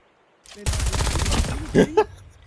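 Rapid automatic fire from an FFAR1 rifle in Call of Duty Mobile, a dense, loud burst of shots lasting about a second, followed by a couple of short clicks and game sounds, with no talk.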